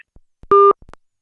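A telephone busy tone right after a call ends: one short, loud, steady double-pitched beep, close and clean, with faint clicks around it and no talking.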